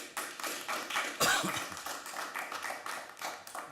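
An audience at a council meeting claps in a short burst of patchy applause, moderately close, with a few separate slaps that rise and fade over a few seconds.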